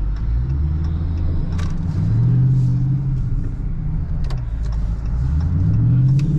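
Dodge 392 V8 engine rumbling steadily from inside the car while driving in rush-hour traffic, loud and continuous with two swells of rising revs, no talk over it.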